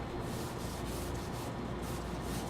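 A pencil rubs over paper in freehand drawing, giving a continuous close scratching rasp with no pauses or voices.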